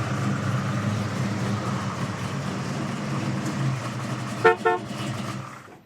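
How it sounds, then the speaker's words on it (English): Two short, sharp toots of the horn on a 1970 Chevrolet Chevelle SS with a 454 engine, sounding over a low, steady idling rumble that fades at the end. "Startled me right there with the horn."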